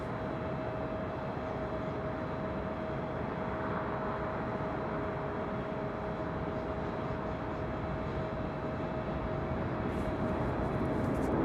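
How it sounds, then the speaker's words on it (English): Sun Country Airlines Boeing 737-800 jet airliner at LAX, heard from a high hotel rooftop: a continuous broad engine roar with a steady whine, loud and unbroken throughout. "That is Sun Country Airlines, Flight 428 heading to Minneapolis, 737-800."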